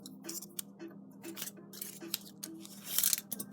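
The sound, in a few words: small scissors cutting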